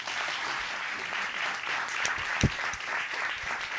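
An audience gives a golf clap of quick, light hand claps that runs steady at moderate volume, with a single sharper clap standing out near the middle.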